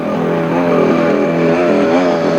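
Large radio-controlled car engine driving past, a loud buzzing two-stroke-like drone with steady harmonics and a slight pitch shift as it passes close by, no talk over it.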